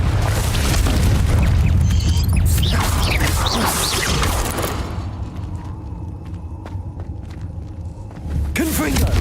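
In the video game Hogwarts Legacy, a Confringo fire spell goes off inside a cave with a loud booming blast and crackling rumble, then the noise thins to a low ringing rumble before another burst near the end. A voice speaks over it.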